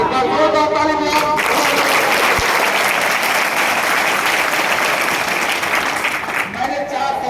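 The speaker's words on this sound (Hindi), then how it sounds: "एक बार जोरदार ताली बजाओ।" A lecture hall audience at a motivational talk breaks into loud, sustained applause that swells after a brief voice and fills the space steadily for several seconds before tapering slightly.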